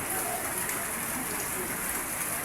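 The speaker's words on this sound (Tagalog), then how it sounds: "Ang gapong ng ulan." Steady rain falls outdoors on a rainy afternoon, a continuous even hiss of drops on surfaces with no pauses and no one talking.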